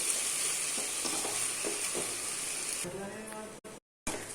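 Chicken pieces frying dry in a hot pan while being stirred, a loud continuous close sizzle with scraping stir strokes, which thins out near the end before a brief dropout.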